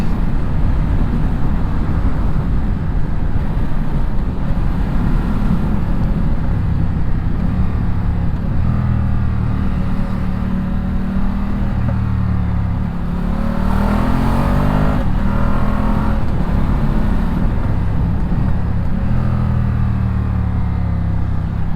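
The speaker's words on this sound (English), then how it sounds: "Typical L-twin sound." A Ducati Diavel L-twin engine runs steadily and loudly throughout, a deep throbbing twin-cylinder rumble with a few throttle swells.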